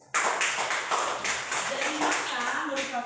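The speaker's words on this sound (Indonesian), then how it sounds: "Oke, tepuk tangan dulu." A primary school class claps hands together in a classroom during a science lesson, producing a quick run of rhythmic, fairly faint claps with children's voices mingled in.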